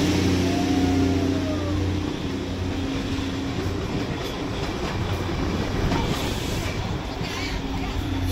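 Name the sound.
Darjeeling diesel toy train passing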